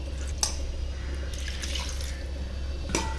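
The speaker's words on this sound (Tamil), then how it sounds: "இப்போ தண்ணி ஊற்றியாச்சு." Water poured into a bowl of batter for a Chettinad breakfast dish in a home kitchen, a soft splashing trickle with a few brief drips over a steady low background hum.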